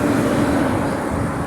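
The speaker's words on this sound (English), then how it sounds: "I'm sorry for this loud noise in traffic" Loud, steady road traffic noise heard from the roadside during a hurricane threat, a constant broadband roar of passing vehicles with no clear breaks.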